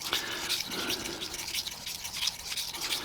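A mini hair clipper blade being polished and cleaned, a soft brisk scrubbing with short repeated strokes, close and fairly quiet, with no talk.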